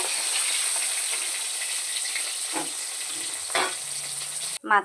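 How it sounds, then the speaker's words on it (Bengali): Small aor and tengra catfish sizzle steadily as they fry lightly in hot oil, a continuous bright hiss with a few soft clinks and scrapes near the end. "মাছটাকে একটু ভালো করে ভেজে নেব আর মাছটা বেশি কড়া করব না"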